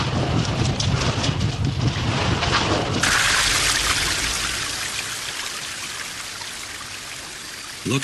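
Water gushing along a channel drawn uphill in an animated scene, a steady rushing trickle that swells sharply after a few seconds, then settles into a softer continuous flow.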